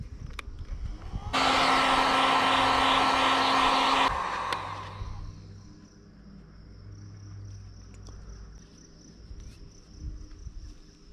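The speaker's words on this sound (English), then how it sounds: "Now I'm going to take my heat gun, heat up these fins a little bit" A heat gun blows on the fins of a fiberglass bass replica loudly for a few seconds with a steady whooshing roar, then cuts off, leaving a faint high whine and quiet room noise.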